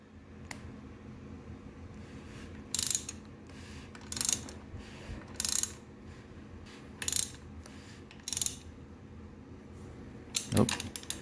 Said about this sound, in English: So I'm going to go ahead and rotate this motor over.